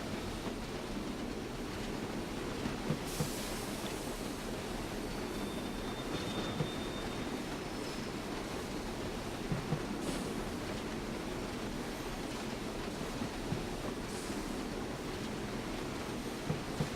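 An LMS 3F Jinty steam tank locomotive rolls along with steam shut off, giving a steady, muted rumble of running gear and wheels on rail, with a few faint clicks and thin squeals heard at a distance.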